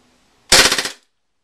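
Airsoft gun firing a quick burst of about six rounds in half a second, loud and sharp with a rapid rattling rhythm, then sudden silence.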